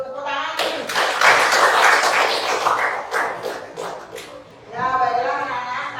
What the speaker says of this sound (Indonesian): Ya, silakan duduk, tepuk tangan.